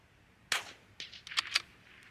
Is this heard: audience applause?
no